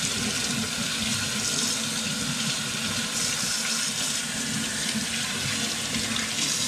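Kitchen sink tap runs in a steady, loud, unbroken gush while something is washed during home cooking, water splashing continuously throughout with no voices.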